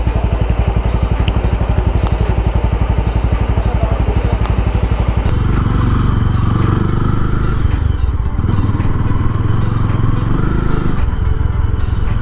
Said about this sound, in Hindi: तो गाइस अभी चलाएंगे महिंद्रा मोजो।